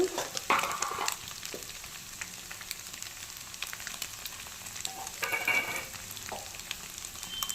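Cooked rice goes into a hot pan for fried rice and fries with a low, steady sizzle, punctuated by a few clattering scrapes and stirring knocks near the start and middle, heard up close without talk.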